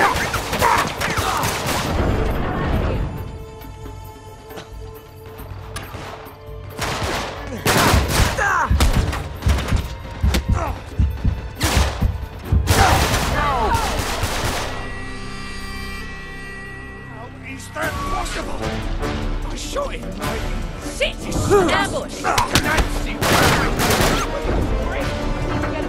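Gunfire in Uncharted from The Nathan Drake Collection on PS5, loud bursts of rapid shots and heavy impacts in clusters, with game music and character voices speaking between and under the shooting.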